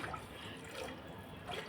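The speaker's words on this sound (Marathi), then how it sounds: "पाणी घालून घेतलेलं आहे" Water poured into a simmering Konkani-style fish curry, a soft continuous trickle and splash of liquid running steadily and quietly for under two seconds with no voices.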